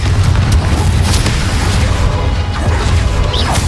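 Confringo spell explosion in Hogwarts Legacy, loud booming blasts and crashes from a magical duel over a constant low rumble, dense and close throughout.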